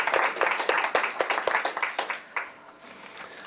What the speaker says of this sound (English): Everybody, please give a round of applause to Dave Littell.